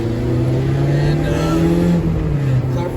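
A Honda Civic DX with a K20Z3 engine swap and manual conversion drives on new tires, its steady engine drone loud and close from inside the cabin, with a voice briefly speaking over it.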